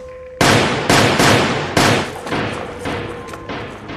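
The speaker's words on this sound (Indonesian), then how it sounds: "Sibar langsung menembakkan senjatanya ke arah lantai." Gunshots are fired at the floor in an action film, a rapid series of about eight loud, sharp reports in quick succession, each ringing out and overlapping the last.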